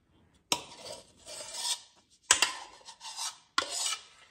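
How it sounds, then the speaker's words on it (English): A spatula scrapes the inside of a mixing bowl while assembling a meatless baked ravioli casserole, making three distinct rasping strokes, each starting sharply and dragging on briefly, with short pauses between them. "I apologize for scraping the bowl"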